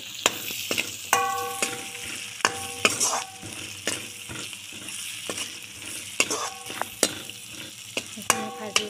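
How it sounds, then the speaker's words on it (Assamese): Onions and green chillies fry in hot oil, giving a constant close sizzle punctuated by repeated sharp metallic clinks and scrapes of a spoon against the pan. "এতিয়া এইখিনি তেলতে মই পিঁয়াজ আৰু জলকীয়া দিম"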